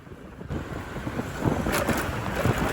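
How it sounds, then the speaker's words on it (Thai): Wind rushes steadily across the microphone on a road trip from Vientiane to Luang Prabang, Laos, a broad roaring noise that swells slightly louder after the first half second and keeps going without a break. "อาจจะเสียงดังนะทุกคนเสียงลมพัด"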